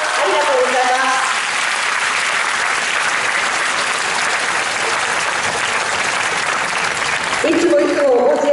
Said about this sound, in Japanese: 落合さんもう一度拍手を。